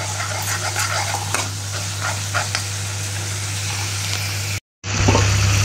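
Masala for rajma fries in a pan with a dense, steady sizzle and occasional stirring scrapes, close and loud over a low hum, cut off briefly near the end before the sizzle returns.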